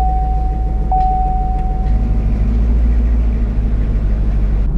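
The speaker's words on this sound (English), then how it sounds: "let's take her for a final spin and enjoy these last moments here in the Camaro" A Chevrolet Camaro drives along with a low, steady engine rumble and road noise from inside the cabin, plus a brief thin tone early on; no talking.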